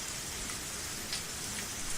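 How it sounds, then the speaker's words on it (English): Rain sound effect in the Higurashi visual novel: a steady, dense patter of rain on surfaces, soft and even for the whole short stretch. "We're left with spooky rain noises"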